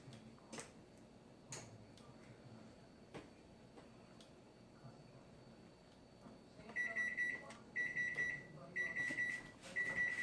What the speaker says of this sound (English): See, my timer is just now going off.